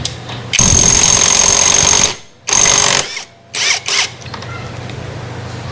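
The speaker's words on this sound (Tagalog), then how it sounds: "Napaka solid, Makita impact wrench." A Makita impact wrench with a 19mm socket hammers at the CVT nut on a Honda Click 125 scooter in loud, rattling bursts: one long burst, then a shorter one, then two quick brief hits.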